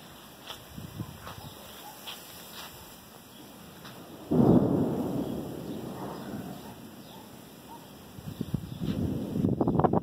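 Thunder rumbling from an approaching storm cloud in Torres, Rio Grande do Sul, with a low roll that swells midway and then fades amid wind buffeting the microphone, followed by gusty noise.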